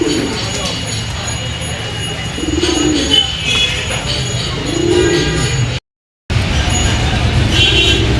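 Pigeons coo in low repeated bursts during a morning feeding, moderately close, over steady background traffic and a constant outdoor hum, with a short dropout near the end.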